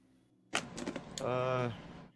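A spaceship door in Star Citizen shuts with a sudden clunk, followed by a few mechanical clicks and a short whirring hum before everything falls quiet.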